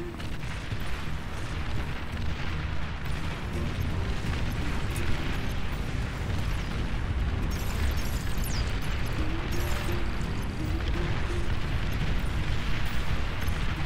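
Artillery fire and explosions in a huge-scale Beyond All Reason RTS siege battle: a dense, continuous roar of booms and blasts with no pauses, loud throughout.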